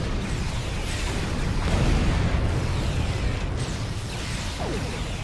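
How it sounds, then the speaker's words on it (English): A grenade explodes in the Star Trek Online game amid Borg combat, a loud rumbling blast with whooshing bursts that sustains as a dense roar for several seconds, no voices over it. "that's a grenade from Flores"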